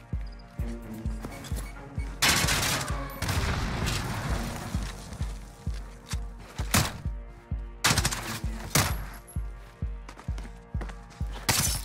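Rhythmic gunfire from a shooter video game, a steady string of sharp reports roughly twice a second with louder bursts and blasts in between, close and continuous with no clear talk.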